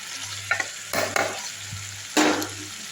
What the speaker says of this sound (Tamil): இந்த சிக்கன் எடுத்து போட்டுடலாம்